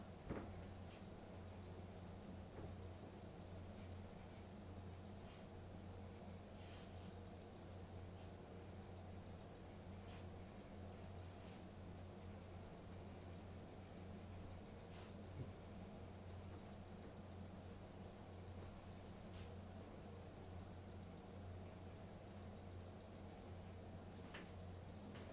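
A colored pencil in an indanthrone or dioxazine purple hue shades over paper with a soft, continuous scratchy rubbing. The quiet, close strokes run steadily throughout with no speech.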